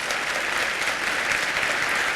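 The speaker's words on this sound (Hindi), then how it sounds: "वज़ीर आज़म के गज़ा के हक़ में आवाज़ उठाने पर हाल तालियों से गूंज उठा।" Audience applause in a conference hall, a dense continuous clapping that fills the whole short stretch at an even loudness.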